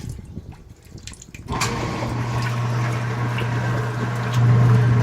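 A 2017 Speed Queen washing machine fills with water during a rinse of fleece sheets: drips give way to a steady rushing inflow with a low humming tone that grows louder near the end.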